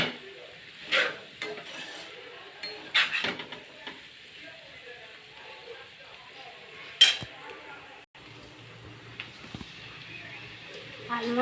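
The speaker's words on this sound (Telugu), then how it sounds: "మధ్యలో ఇలా తిప్పుకుంటూ ఉంటే మనకి ముక్కలు మొత్తం కూడా బాగా ఎర్రగా ఫ్రై" Potato pieces for aloo fry sizzle faintly in a pan, with occasional clinks and scrapes of a spoon stirring them while a person talks intermittently.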